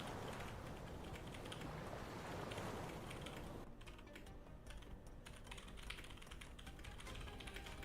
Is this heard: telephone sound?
no